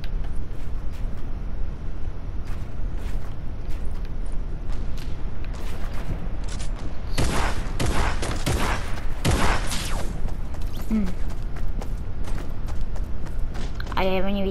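Sniper shots in Fortnite ring out from behind amid a busy firefight, several loud sharp cracks bunched near the middle, with players talking over the game sounds throughout.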